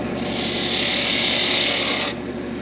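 A small 1/4 to 3/8 inch bowl gouge cuts wood on a lathe with a continuous loud rasping hiss for about two seconds that ends abruptly, leaving the lathe's hum.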